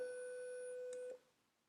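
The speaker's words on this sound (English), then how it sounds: "And a triangle wave." A single steady triangle-wave tone from a microcontroller's DAC holds one pitch with faint overtones for about a second, then cuts off sharply, leaving quiet background.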